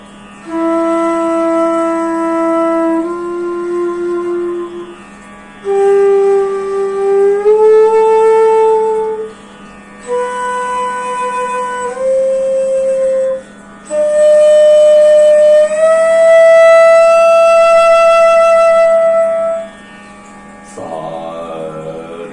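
Solo flute playing the ascending and descending scale of Raag Bhairavi, sustained breathy notes held one after another with short gaps, some sliding between pitches, loud and close over a faint steady hum.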